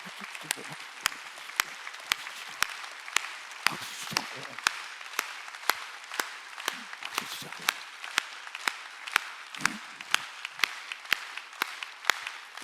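Rhythmic congregation clapping in a steady beat at a Sunday church service, crisp and repeated throughout, with a voice speaking and chanting between claps.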